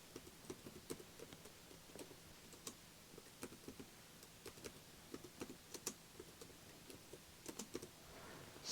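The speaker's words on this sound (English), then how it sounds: "I shall type out all responses." Soft, faint keystrokes tap on a computer keyboard in an uneven run of quick clicks, close and quiet against a low hiss, with no voice.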